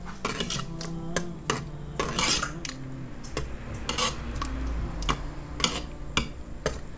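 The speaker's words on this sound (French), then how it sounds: "Après quelques secondes, je viens pour mélanger." Okra with garlic is stirred inside a Cookeo multicooker pot: a spoon clinks and scrapes against the metal with quick, irregular taps, close and fairly loud, with a steady low hum underneath.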